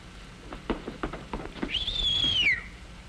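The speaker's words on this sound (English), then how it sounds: "Did you whistle, sir?" A man's wolf whistle at a girl, a single bright rising-then-falling whistle following a few soft footstep-like taps, close and clear in a quiet room.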